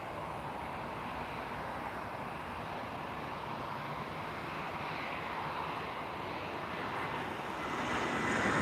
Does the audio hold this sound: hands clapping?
no